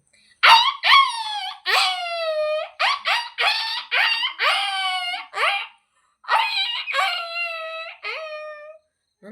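A human voice imitates a house dog howling in pain after being hit by a stone, with repeated drawn-out wailing yelps and moans in a quick series of rising then falling cries, loud and close with brief pauses between bursts.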